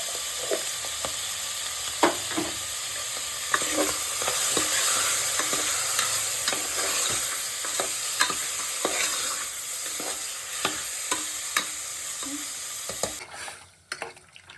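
Mutton liver sizzles in oil in a cooking pan while a spoon stirs and scrapes it in irregular knocks. The frying is close and steady, and it cuts off near the end.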